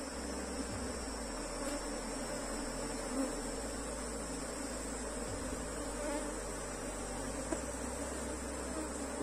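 Honey bees hum in a dense, steady drone around an opened hive at an apiary, a close and continuous buzzing with occasional louder passes from individual bees, and no voices.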